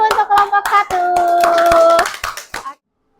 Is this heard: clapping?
yes